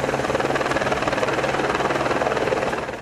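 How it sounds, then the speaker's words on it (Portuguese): A Military Police helicopter passes over a search area of woods and a river, its steady rotor thump and engine whine loud and continuous throughout, easing slightly at the end. "Um helicóptero da Polícia Militar sobrevoa a área."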